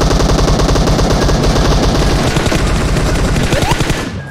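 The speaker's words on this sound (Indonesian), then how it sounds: "Nah kan ada tembakan di belakang." Rapid automatic gunfire in the battle-royale game PUBG Mobile, a loud, dense, continuous burst of shots that carries on for several seconds before easing off at the end.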